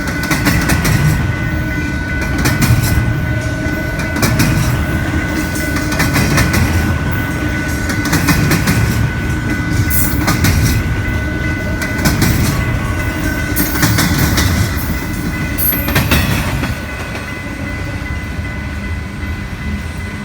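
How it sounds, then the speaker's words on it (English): A BNSF intermodal freight train coming down from Blair passes steadily, led by an SD70AH locomotive with an ES44AC, its loud rumble and clickety-clack wheel noise continuing throughout before easing slightly near the end. "up came yet another one, an intermodal coming down from Blair, led by SD70AH 8644 and original ES44AC"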